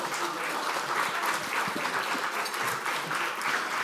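Steady audience applause fills a conference hall, a dense, even wash of many hands clapping continuously at moderate distance with no pauses.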